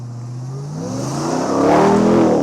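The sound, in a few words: 2025 RAM TRX Final Edition truck engine accelerating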